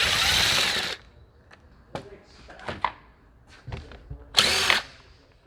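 A power drill removes the seat bolts on a Burromax mini bike, whirring loudly in two short bursts at the start and end, with quiet clicks and handling noises of the bolts between.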